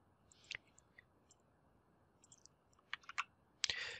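Faint, sparse clicks of typing on a computer keyboard while entering figures into a spreadsheet, a few isolated taps and then a short burst of keystrokes in a quiet room.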